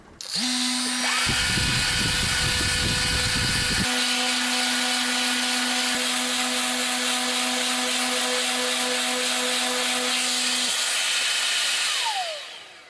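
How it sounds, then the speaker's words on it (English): A handheld power sander runs steadily against the top surface of a high-end Tom Evans Mastergroove SR mkIII preamp, grinding back the finish, with a loud sustained whine and a rougher burst of abrasive scraping early on. "I'm going to have to sort of sand all this back and repolish it"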